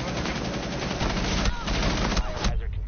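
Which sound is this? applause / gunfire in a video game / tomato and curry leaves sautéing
gunfire in a video game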